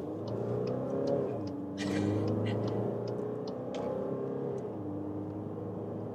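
A VW Tiguan TDI with all-wheel drive accelerates from 40 km/h, its diesel engine note steadily climbing in pitch as it pulls through the revs from inside the cabin, with a brief shift break along the way.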